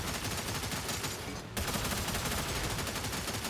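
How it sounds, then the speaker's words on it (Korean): An explosive is thrown and goes off in the game Supervive: a dense, sustained roar of blast and gunfire-like crackle that fills the whole clip, briefly dipping before resuming loudly. "폭발물 투척 명중이군"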